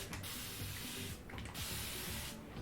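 Quick bursts of a hand-pump spray bottle misting water onto hair, close and crisp, several short squirts with brief pauses between them.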